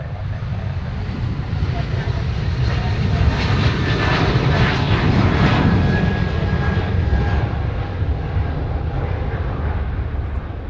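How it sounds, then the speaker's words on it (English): A twin-engine Cessna departs runway 4 Left at Honolulu, its engine roar swelling to a peak midway and then fading as it climbs away, with light wind noise. "Twin Cessna departing runway 4 left"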